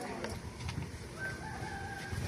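A rooster crows faintly in the distance, a drawn-out call over a noisy outdoor background.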